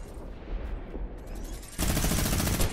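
A minigun in a shooter game opens up with a sudden dense, continuous roar of rapid fire, following a quieter stretch of distant shooting.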